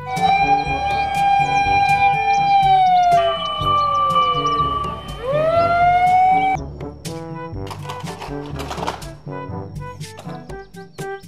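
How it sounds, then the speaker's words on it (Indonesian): A toy fire engine ladder truck plays a loud electronic siren with wavering, sweeping tones, then shifts to a choppier, warbling pattern. "Mobil truk tangga pemadam kebakaran."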